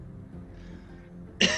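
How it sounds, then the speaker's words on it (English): A single sharp cough from a man with a flu bursts out near the end, following a stretch of quiet low room tone. "I got a bit of a cough from my flu."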